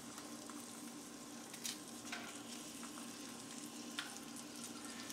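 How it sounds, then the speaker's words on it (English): Onions frying in hot melted butter in a skillet: a steady crackling sizzle with occasional sharper pops and stirring scrapes, all fairly close, with no voices. "I've taken at least 2 tablespoons of butter and set them in the skillet and let it melt. Then, after getting it nice and hot, I put my onions"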